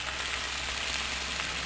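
Kadai chicken, nearly dry with little gravy and with chopped cilantro added, fries in a pan while being stirred, giving a dense, steady sizzle close by with no talking.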